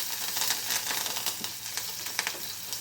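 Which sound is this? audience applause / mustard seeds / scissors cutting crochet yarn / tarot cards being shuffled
mustard seeds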